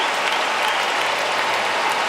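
A tennis crowd applauds after a point, dense sustained clapping from many hands at a steady loud level with no pauses.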